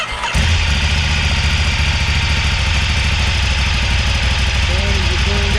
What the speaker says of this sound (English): So we're starting the bike again.